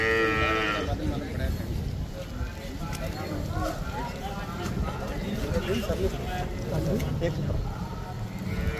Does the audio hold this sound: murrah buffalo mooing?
yes